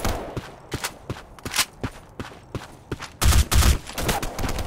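Rapid gunfire bursts in the online shooter Black Squad, a steady run of sharp close shots followed by two heavier, louder blasts near the end, with no talk over them.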